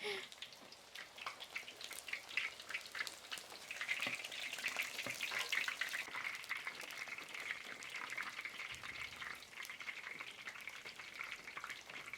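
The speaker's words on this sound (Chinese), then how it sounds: "油烧热，再复炸一下啊，" Battered crispy pork, fried a second time in hot oil, crackles with a steady, dense sizzle of fine popping bubbles that stays fairly quiet and even throughout.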